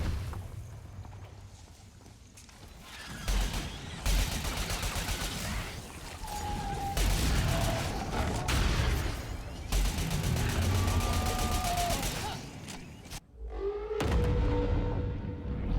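Grenade explosions in the multiplayer shooter Crucible, a dense run of loud bursts and blasts layered with gunfire over several seconds, ending in a sharp drop then a final burst.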